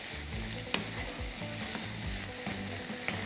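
Pork cracklings sizzle loudly in a frying pan, a dense crackling hiss with a few sharp pops and a scraping stir repeating underneath.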